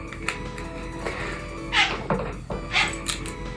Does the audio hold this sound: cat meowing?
yes